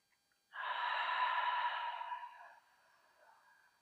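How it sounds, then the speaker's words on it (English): A single long, deep breath close by, a steady airy exhale lasting about two seconds that tapers into a softer trailing breath, with no talking, during a relaxed self-massage session. "Let's take 2 more deep breaths here"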